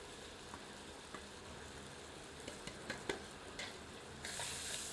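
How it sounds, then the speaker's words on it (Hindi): Finely chopped onions sizzle in hot oil for a chicken curry, a quiet, even frying crackle with a few sharp ticks of stirring, then a louder burst of sizzle near the end. "पुनः तेल गर्म करके इसमें बारीक कटी हुई"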